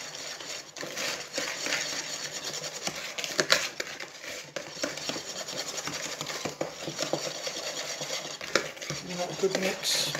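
Vegan brioche ingredients with caster sugar being stirred into a paste in a bowl, a quiet run of scraping and clinking utensil sounds with occasional sharper knocks.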